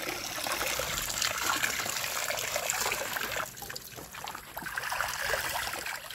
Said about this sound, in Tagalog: Isang balnaw pa yan.